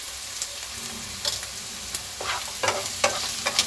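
Half a spoon of ajwain seeds fries in oil for chilli paneer under a soft, steady sizzle, broken by a series of sharp spoon-stirring scrapes and taps that come more often toward the end.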